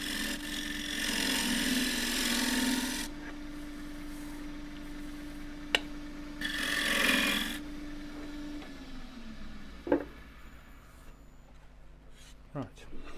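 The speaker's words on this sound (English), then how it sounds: "you can actually tilt this up on edge and shear scrape" Shear scraping on cracked fiddleback redgum spinning on a wood lathe produces two bursts of bright rasping scrape over a steady motor hum, separated by quieter stretches with a few sharp ticks.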